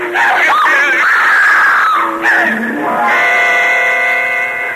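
A woman screams in long, loud, wavering cries, the pitch sliding up and down, breaking off briefly before continuing.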